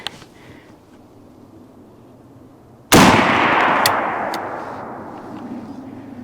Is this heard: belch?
no